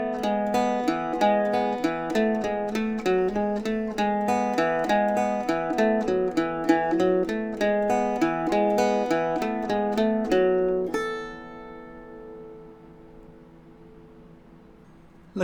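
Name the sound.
Irish bouzouki playing lines 1 to 3 of The Gander in the Pratie Hole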